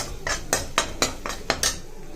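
Ground masala powder sautéed in oil with mustard seeds in a pan, stirred with a metal spoon: a quick run of bright scraping clatters about every quarter second, close and loud, with no talking.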